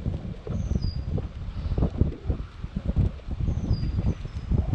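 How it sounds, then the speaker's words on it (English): Gusty wind buffets the microphone in uneven, rumbling bursts outdoors while paddle board fishing, with faint chirps in the background. "All right, so yes, it is very windy"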